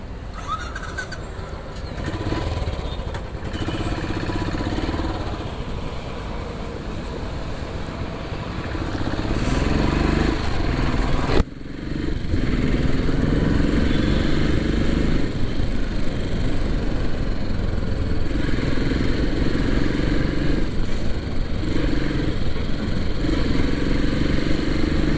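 A Royal Enfield Classic 500 motorcycle engine runs steadily with a continuous loud thumping rumble. Partway through there is a brief dip and a jolt, and it then carries on steady and close.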